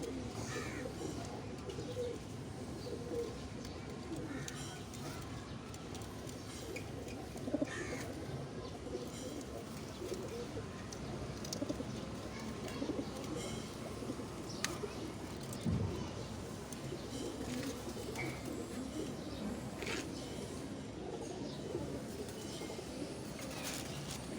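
Pigeons cooing steadily and softly throughout, a continuous layered murmur of several birds with faint chirps and distant background noise.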